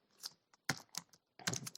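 Keystrokes on a computer keyboard while entering a double equals sign in Python pandas code, coming in three short bursts of quick, close clicks separated by brief pauses.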